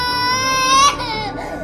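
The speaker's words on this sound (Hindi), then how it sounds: "एक बच्चे की रोने की आवाज" A baby cries loudly and close in a horror story scene, with a wailing rise followed by breaking, sobbing cries.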